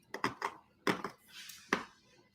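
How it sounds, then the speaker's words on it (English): Ice cubes crunch between someone's teeth close to the microphone, several sharp, quiet bites spaced irregularly with silence between them. "I'm chewing on ice."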